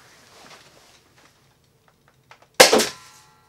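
A Nerf Rival Phantom Corps Helios sniper-style blaster fires a single sharp, loud pop up close after a few faint handling clicks, with no talking.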